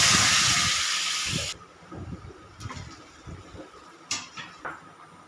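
Vegetables and potatoes tipped into hot oil for a rohu fish and potato curry give a loud, bright sizzle that fades after about a second and a half. Softer clatters and small hisses from stirring follow.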